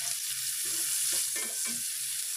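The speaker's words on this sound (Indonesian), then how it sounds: "Lalu goreng atau tumis bawang merah yang sudah kita iris tadi." Sliced shallots sizzle in oil with margarine in a pan, a steady close frying hiss broken by a few soft stirring scrapes.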